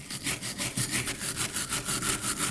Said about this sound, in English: Using a wire brush, we're gonna go ahead and clean off all the debris and the old rust that's on that area.